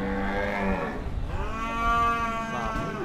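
Two female Simmental cattle moo close by, one long low call followed by a second, drawn-out harmonic moo, each rising and fading over a second or more.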